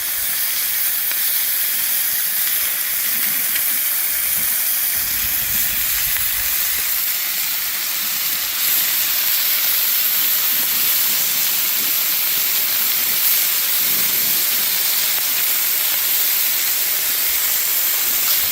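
Bacon fries in a restored cowboy wok with a steady, loud, hissing sizzle that continues unbroken for the whole stretch, with faint low bumps of movement underneath.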